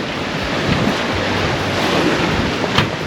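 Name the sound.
wind and waves while sailing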